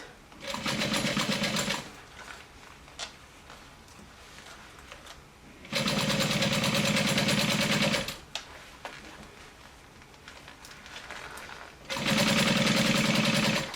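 A sewing machine stitches a fanny pack in three steady bursts of a couple of seconds each, close and clear, separated by quiet pauses with small handling noises.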